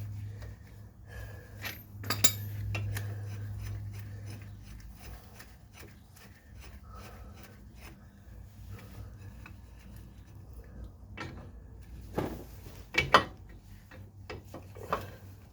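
A socket is jammed onto the end of a bolt on a stuck car suspension shaft, giving scattered metallic ticks, scrapes and a few sharper clanks over a low steady hum.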